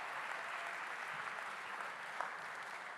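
Audience at an indoor charity event claps in a steady, even roar of applause that holds throughout, with no pauses and no voices on top.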